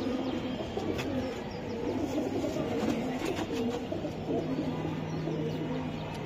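Racing pigeons coo softly in a loft, low repeated calls under a steady background hum with occasional chirps, moderately close.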